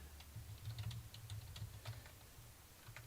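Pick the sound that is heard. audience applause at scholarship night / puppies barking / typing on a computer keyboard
typing on a computer keyboard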